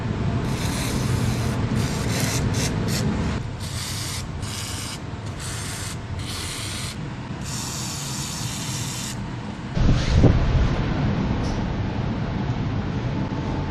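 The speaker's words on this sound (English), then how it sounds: "I'm going to do is start hosing all this stuff down with some WD-40" WD-40 is sprayed onto the suspension bolts of a 1966 Chevy one-ton dually truck, heard as repeated hissing aerosol bursts of varying length over a constant loud background noise, with one thud near the end.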